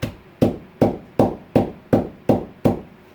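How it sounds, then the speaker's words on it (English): A rubber mallet taps wine-making tablets on the floor to crush them into powder. Eight sharp, evenly spaced knocks ring out close by, each with a short fading thud. "And then I just like to use a rubber mallet."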